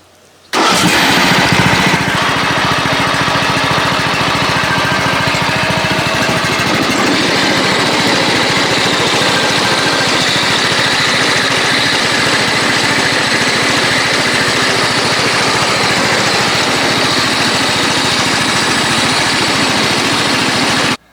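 A John Deere X110 ride-on lawn mower engine cranks and catches, then runs loudly and steadily at a high idle, a constant buzzing mower drone lasting the whole time.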